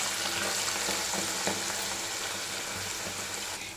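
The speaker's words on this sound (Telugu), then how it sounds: "మనము డ్రైన్ చేసిన పొటాటోస్ని ఆయిల్లో ఇలా వేయాలి" Drained potato slices fry in hot oil for homemade crispy chips, a dense, steady sizzle and crackle with faint stirring knocks, close and continuous.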